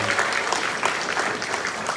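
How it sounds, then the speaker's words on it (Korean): Wedding guests give the pastor a big round of applause, dense clapping from a room full of people that stays loud and even for a couple of seconds, with scattered voices underneath. "목사님에게 큰 박수로 함께 해주시면 감사하겠습니다"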